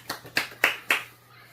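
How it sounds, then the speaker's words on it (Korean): A few scattered hand claps, about four sharp separate bursts, from a small group of learners during a casual English vocabulary class, close by with no talking. "엄마도 박수 치세요."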